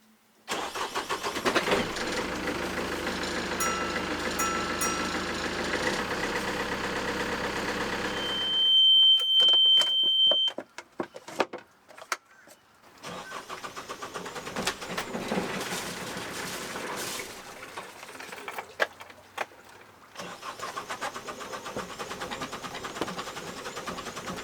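An old sailboat's engine runs steadily, then abruptly cuts out into near silence, followed by sputtering bursts as it tries to catch again before idling back.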